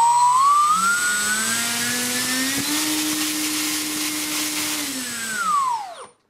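A T-Motor AS2820 1050kV brushless motor on a 3S battery and 40 A ESC spins a 10x6 propeller mounted on a 2.7 m homemade glider during a current test. Its loud, close whine ramps up, holds steady, then winds down at the end, with no talk.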